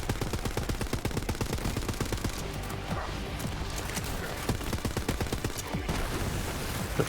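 Rapid automatic gunfire rattles almost without a break in the Borderlands shooter, with dense close shots, brief gaps and scattered impacts forming a loud, steady barrage.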